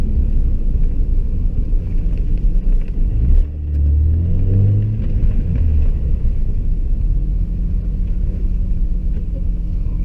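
A 700 whp twin-turbo Toyota Supra rumbles on a wet road in the rain, a loud, steady drone heard from inside the car, with a brief surge of revving in the middle.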